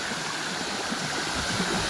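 Water from a waterfall in a hidden spot in Kanyakumari pours down a hillside, making a steady broadband rush that stays even and continuous throughout, with no voices.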